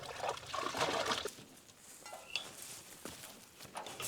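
Water trickles and splashes from a running tap, uneven bursts of flow and dribbling, fairly faint and close, fading to quieter drips toward the end.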